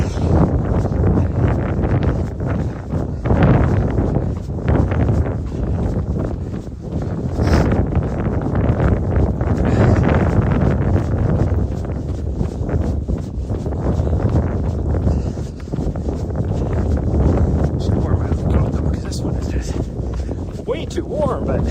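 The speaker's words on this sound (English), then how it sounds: "that wind felt so cold" Cold wind buffets the microphone with a steady, loud low roar and gusts on a chilly trail run on the Arizona Trail's Kaibab Plateau, with voices and other noise mixed in under the rush.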